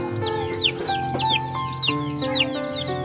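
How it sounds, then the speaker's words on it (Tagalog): Young chicks peep in rapid, rising-falling chirps, several birds calling over one another nearby, loud and continuous, with what sound like hens clucking underneath and no talking. "May sisiw dito."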